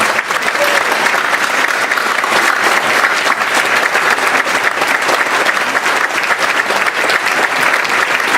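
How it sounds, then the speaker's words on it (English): An audience at an annual achievement night applauds the trainers, a dense, steady roar of clapping that fills the room loudly and evenly from start to finish with no talk over it. "You guys can stand up and give them all a applause."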